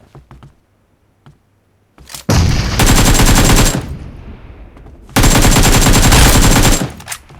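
Loud automatic gunfire from the mobile battle-royale game PUBG Mobile comes in two sustained rapid bursts, each about a second and a half long, separated by a quieter gap, with a few faint clicks before them.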